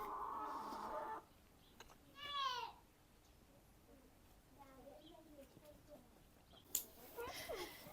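A rooster crows and hens cluck in a village farmyard, with people talking nearby and a sharp knock partway through.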